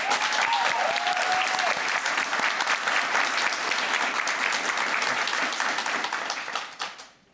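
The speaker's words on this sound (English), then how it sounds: "let's give a round of applause for our loved ones and those who root for us" A graduation crowd gives sustained applause, with dense clapping that holds steady and then fades out near the end.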